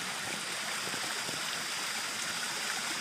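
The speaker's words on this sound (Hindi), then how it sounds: "देखिए, झरना बह रहा है।" Steady, close rushing of a clear-water mountain stream, an unbroken wash of flowing water filling the whole moment with no voices over it.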